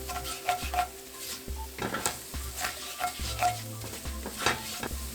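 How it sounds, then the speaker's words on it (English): All-purpose flour roasts in a pan with garlic and bay leaves while a utensil stirs and scrapes against the pan in repeated strokes over a soft sizzle, close and clear. "Mix properly and let flour roast for 1 minute."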